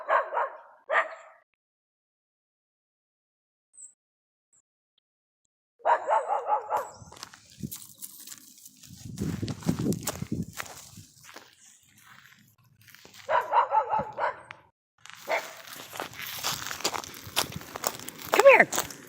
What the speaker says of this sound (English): Is this dog barking at us?